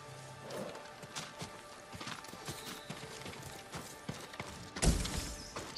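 Horse hooves clip-clopping in a steady, uneven rhythm over a busy soundscape in the video game Ghost of Tsushima, ending with a louder thud near the end.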